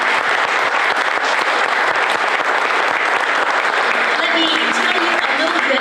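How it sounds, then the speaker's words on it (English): A press conference crowd at Anderson Speedway gives dense, continuous applause for the Little 500 Festival Queen and runner-up. It stays loud and even throughout, with a voice faintly coming in toward the end. "So let's give them a round of applause."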